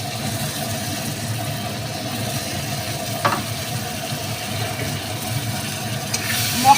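A paste of tomato, ginger, onion and garlic fries with potatoes in a pan for egg vapa, giving a steady, fairly soft sizzle with a brief sharper clink of stirring partway through.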